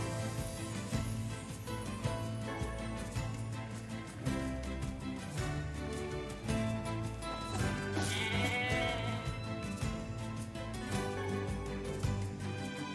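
Goats bleat in the video game Nier Replicant, their calls rising over steady game music and ambience throughout.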